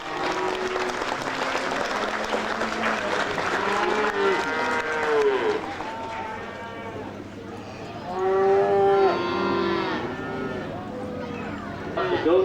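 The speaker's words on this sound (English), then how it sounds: "Let's give them a big round of applause" A crowd at a fair claps and cheers while cattle moo repeatedly nearby, the lowing calls rising over the steady applause.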